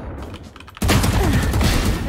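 Video game gunfire during a competitive match with smoke callouts and Brimstone mentioned, bursting in loud and dense after a quieter moment and continuing as a sustained, rattling barrage until the end.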